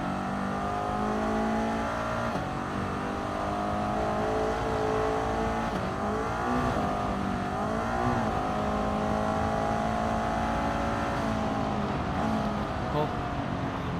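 Toyota MR2 in GT Sport running a fast lap, its engine droning steadily and loud with rising and falling pitch as it works through gears, with a voice talking over it at times.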